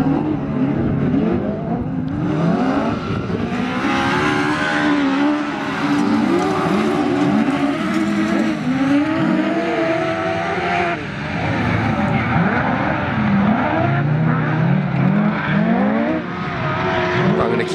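Autograss race cars at Oxton Raceway, including twin bike-engined cars and a green car with a V8 in the boot, race past with shifting engine whines, revving and overlapping engine noise, loud and continuous under talk.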